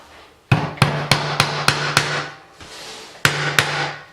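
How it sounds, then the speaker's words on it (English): A hammer drives a nail into hard oak flooring, eight sharp ringing strikes in two quick runs with a brief pause between, close and loud with no talk. "Go to a heavier hammer. I think this oak is really hard."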